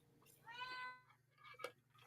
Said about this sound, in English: I hear Kitty again